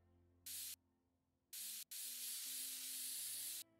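Compressed air sprayed inside the PC Builder Simulator video game: a short hissing blast, a second brief burst, then a long sustained spray of nearly two seconds.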